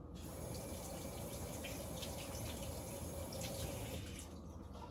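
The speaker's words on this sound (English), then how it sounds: "Let me wash my hands just a little bit." A kitchen tap runs steadily while hands are washed beneath it, the water hissing and splashing close by for about four seconds before cutting off, with no talking.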